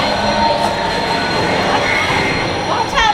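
A tram rolling along rails at Universal Studios during Halloween Horror Nights 2021, with a steady rumbling roar and occasional high wheel squeals, close and loud, with faint voices mixed in.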